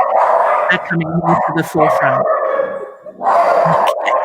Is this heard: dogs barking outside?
yes